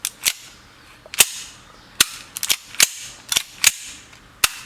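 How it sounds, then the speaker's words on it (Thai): Sharp metallic clacks ring out in an irregular series, some single and some in quick pairs, as an airsoft pistol slide with a stiffer recoil spring snaps back and forth up close. "ฟังจากเสียงในการ เลื่อนของสไลด์นะครับ จะค่อนข้างแน่นนะครับ"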